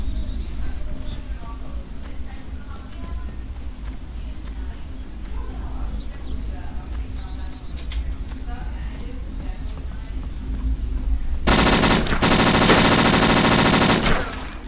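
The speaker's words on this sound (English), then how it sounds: "I just unloaded 50 rounds into him, point blank, and he didn't die." An MP5 submachine gun fires in a survival video game in a dense, loud burst of automatic fire near the end, after a stretch of quieter ambient game sound with faint birds.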